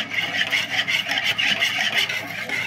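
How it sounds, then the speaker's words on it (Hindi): A spoon scraping and stirring a vanilla custard sauce mixture in a bowl, a continuous rhythmic rasping close up with no voices. "और इसको करेंगे हम अच्छे से मिक्स।"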